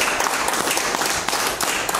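A church congregation claps together, a steady dense wash of hand claps lasting a couple of seconds with no talking over it.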